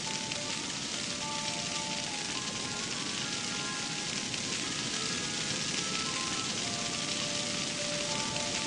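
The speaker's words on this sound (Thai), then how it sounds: "ดูฝนตกทำอะไรได้แถวนี้" Rain falls in the puzzle video game Mimpi, a steady, even hiss of droplets that holds constant throughout with faint tonal game sounds above it and no speech.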